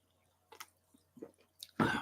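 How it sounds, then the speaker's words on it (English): Pull-tab of a seltzer water can snapping open with a hiss, a short close pop after a few faint clicks and fumbling, loudest at the very end. "So when you hear this, hear me pop a top, it is a seltzer water."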